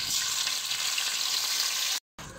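Garlic and bagoong shrimp paste sautéing in chili garlic oil make a steady, close sizzle that runs unbroken, then cuts out briefly near the end before resuming.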